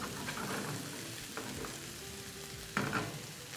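Onions are stirred and fried in a hot pan, giving a steady close sizzle with a few scraping stir strokes, the loudest near the end.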